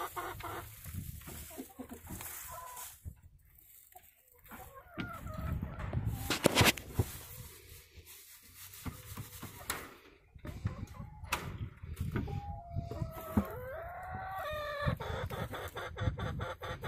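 A flock of Australorp chickens, about a dozen hens and two roosters, cluck and squawk in a farmyard, with a rooster's crow rising near the end, amid knocks and handling noises.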